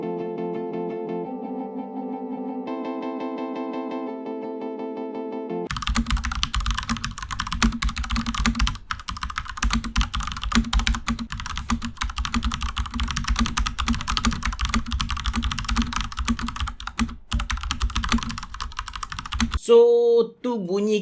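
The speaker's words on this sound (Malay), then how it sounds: "tu bunyi ketikan Cherry MX Red Switch yang ada kat Asus ROG Strix Flare ni lah" Rapid, steady typing on an Asus ROG Strix Flare keyboard with Cherry MX Red switches, light mechanical clicks, close and continuous, after a brief stretch of soft musical tones at the start.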